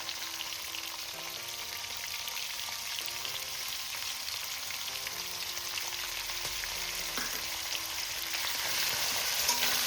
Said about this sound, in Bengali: এবার আমি এর মধ্যে দিয়ে দেবো নারকেল কোড়া